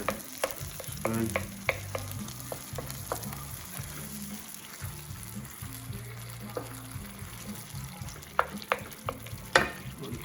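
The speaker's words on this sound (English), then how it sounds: "we'll break those tomatoes up a little bit more with the spoon" A spoon breaks up tomatoes in a simmering meatball sauce for rogan josh, giving soft wet squelches and stirring scrapes with light pan taps over a low steady bubbling sizzle, close and quiet.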